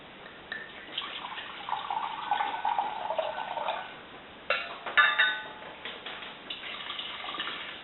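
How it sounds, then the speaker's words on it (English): Clam broth and white wine are poured into a pot for creamy Italian clam linguine, giving two quiet, close splashing pours separated by a brief pause. "We're also adding to that a half a cup of clam broth and a half a cup of white wine."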